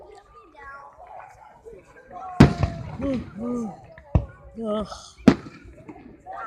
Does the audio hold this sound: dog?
no